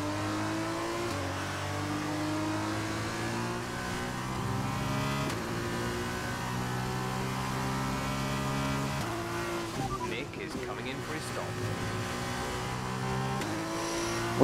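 An F1 race car engine screams at sustained high revs in the F1 2021 video game during a rainy race at Silverstone, with tire noise as the car slides, and a steady continuous drone throughout.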